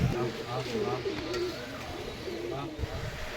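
A pair of Giribaz pigeons coo in low, rolling phrases at close range, the throaty calls repeating over a steady background murmur with voices mixed faintly in.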